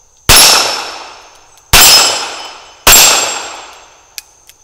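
Three loud, close shots from a Smith & Wesson 617 revolver ring out at an outdoor range, each a sharp crack with a long ringing decay, followed by two faint metallic pings from the steel target.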